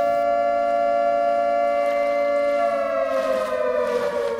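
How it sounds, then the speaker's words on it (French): A loud warning siren holds a long, steady wailing tone and then slowly slides downward in pitch. It fills the whole stretch on its own, with no voices. "on a entendu la sirène, une sirène un petit peu dramatique qui annonce rien de très très positif"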